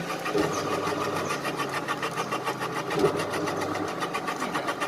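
A Toshiba washing machine drum spinning noisily: a steady mechanical whirring and rattling drone with a faint rhythmic pulse, continuous throughout without speech.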